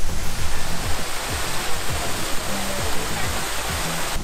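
Wufengqi waterfall in Jiaoxi, Taiwan, pouring down as a loud, steady broadband roar of rushing water heard close by, with faint voices of people in the background.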